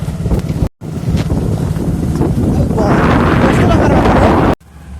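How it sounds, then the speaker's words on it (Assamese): Strong wind buffeting a microphone outdoors in open countryside, a loud rumbling roar that swells and briefly cuts out twice. "বতাহ বলি আছো একদম"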